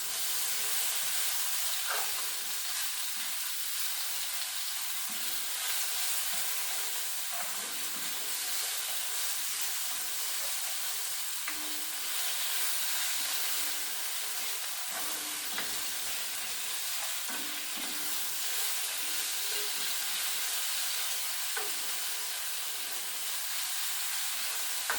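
Beef sears quickly in a hot pan for broccoli beef, a steady hissing sizzle with soft stirring scrapes and small pops, close and unbroken, no talk.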